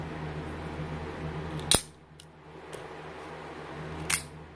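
Two sharp mechanical snaps from a Hogue OTF automatic knife firing its blade out, each crisp and close against a quiet room hum, with faint clicks between.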